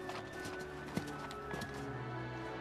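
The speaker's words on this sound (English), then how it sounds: "A horse! At once!" Horse hooves clip-clopping in Dynasty Warriors 8 amid battlefield game audio, with a steady layered bed of sound and a brief sharp hit near the middle; a neigh is not clearly distinct.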